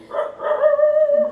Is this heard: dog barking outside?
yes